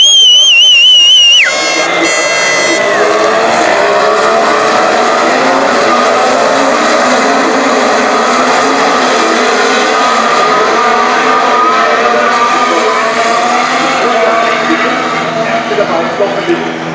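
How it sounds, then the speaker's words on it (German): Formula 1 race cars scream past at Spielberg, Austria, a loud, sustained high-pitched engine roar that rises and falls as the field races on. Commentary runs beneath the engine noise. "Guter Start von Lewis Hamilton, von 9 auf 4 gefahren."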